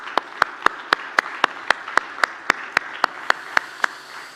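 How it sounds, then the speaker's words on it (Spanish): A church congregation claps in steady unison, evenly spaced sharp beats about four per second, over a faint room background. "Dele un aplauso al Señor."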